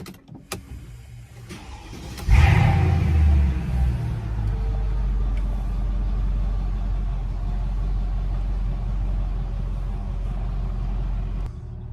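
A Mercedes E55 AMG with a slipping transmission, shifted into drive on light throttle: a click and thump, then the engine settles into a loud, steady low rumble that holds for about ten seconds, heard from inside the car.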